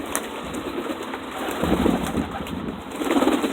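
Tame pigeons coo softly over a steady outdoor hum while feeding, with a few faint flutters of wings in the background.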